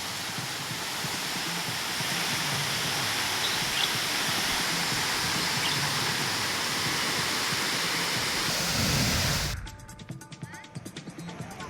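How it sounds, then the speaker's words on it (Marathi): Rautwadi waterfall in Radhanagari taluka, swollen by heavy rain, gives a dense, steady roar that holds for about nine seconds before dropping to a quieter, more broken wash of sound. "राऊतवाडीचा धबधबा प्रवाहित झालेल्या राधानगरी तालुक्यामध्ये"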